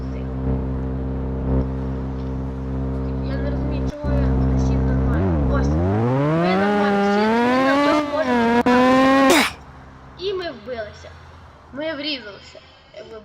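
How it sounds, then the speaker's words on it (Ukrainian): Motorcycle ridden in the video game Roblox: a droning engine tone that rises and falls in pitch as it revs and accelerates, loud and close, then tails off into softer, choppier revs, with a voice talking over it. "Все, ми сідаємо на наш мотоцикл і їдемо на дорогу."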